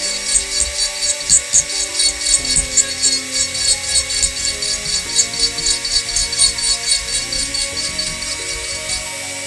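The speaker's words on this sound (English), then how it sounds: "I'm using a dental drill. That's what this is at the end." A dental drill carves a figure in short rhythmic strokes, a thin high whine pulsing with each pass over a soft scraping texture, steady and close throughout.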